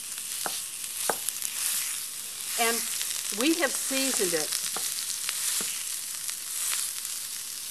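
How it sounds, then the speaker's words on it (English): Seasoned Italian sausage sizzles steadily in a frying pan, a loud, constant hiss throughout while someone talks briefly over it. "it can be used by first pan frying it"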